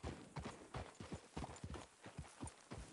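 Horse hooves clop in a quick, even rhythm in Red Dead Redemption 2, a steady trot of sharp knocks close by, with no talking over them.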